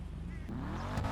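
A stock Karin Sultan Classic, a Subaru Impreza GC8-style car in a video game, accelerates with a loud, rising engine roar heard up close, with gear and tire noise layered in.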